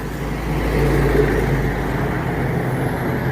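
A bus with a Volvo engine cruises along a highway in Palembang, giving a continuous loud low engine drone with road rumble and wind noise and no break.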